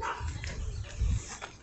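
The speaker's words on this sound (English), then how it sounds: "I hear a doggy." A dog gives a couple of short, muffled barks at a moderate distance, brief and somewhat faint.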